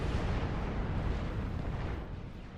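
A structure exploding in Supreme Commander 2, a heavy, rumbling low blast that sustains and slowly fades over a few seconds, heard alone without talk.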